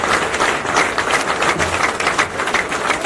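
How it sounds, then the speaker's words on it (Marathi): A crowd at a paan vendors' rally at Azad Maidan applauds steadily to welcome the state president, a dense, continuous wash of many hands clapping at moderate loudness with no clear voices above it. "टाळ्या वाजवून स्वागत करा प्रदेशाध्यक्षांचं"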